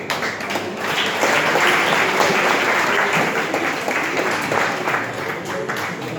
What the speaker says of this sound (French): Je vous demande d'applaudir une deuxième fois notre ami